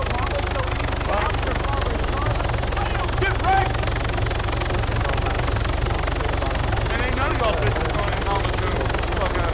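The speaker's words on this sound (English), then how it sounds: "we gotta wait for the helicopter" A helicopter's steady rotor drone and engine rumble fill the background throughout a video game, with scattered voices and game-like noises over it.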